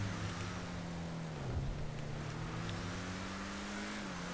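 BF Weevil Custom, a Volkswagen Beetle rat rod, accelerating in GTA Online: a steady engine drone that holds its pitch, climbs, dips briefly near the middle, then keeps pulling, alone without voices.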